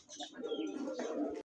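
Pigeons coo close by in a soft, throaty, continuous burst lasting just over a second, with no talk over it.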